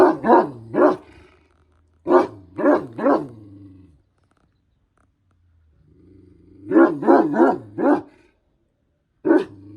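A Malaklı guard dog barks at the door in short bursts of two to four loud, close barks, separated by quiet pauses.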